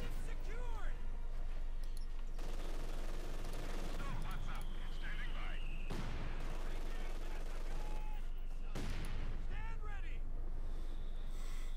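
Battle sounds from the Company of Heroes 2 strategy game: rifle and machine-gun fire with distant booms and whistling shells, a continuous dense battlefield bed running beneath nearly constant commentary.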